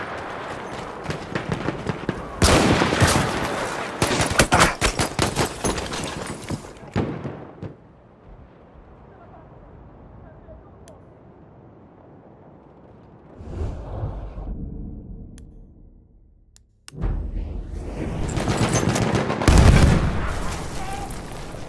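Battlefield 1 machine gun fire comes in loud sustained bursts, pauses for a quiet stretch with a brief rattle, then resumes heavily, with explosions and battlefield noise in the mix.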